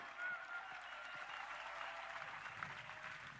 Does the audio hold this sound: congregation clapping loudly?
yes